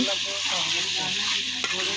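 Steady loud sizzling from a pot while a utensil scrapes and stirs frying desi chicken, with a small clink near the end.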